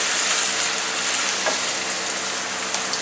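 Onions frying in a pan for lasagna give off a steady, close, dense sizzle with a soft crackle, continuous for the whole stretch and with no voices.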